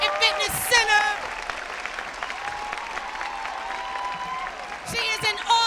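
An audience claps at a symposium, a dense, steady round of applause that runs throughout, with a few louder bursts of cheering near the start and end.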